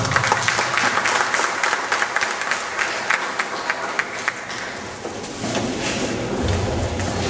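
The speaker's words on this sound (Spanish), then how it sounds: "Un fuerte aplauso para él." A crowd applauds steadily at an academic diploma ceremony honouring a guest lecturer; the dense clapping stays loud throughout, thinning slightly midway before swelling again, with no talk over it.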